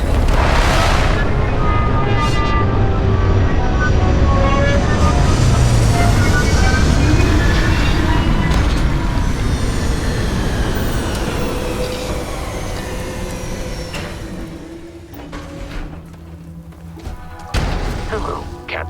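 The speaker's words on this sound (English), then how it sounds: "Landing struts primed. Retros firing." Spaceship retro thrusters fire during a landing in Starfield, a loud, sustained roaring rumble with hissing and tonal whines that fade toward the end, ending with sharp clunks as the craft touches down.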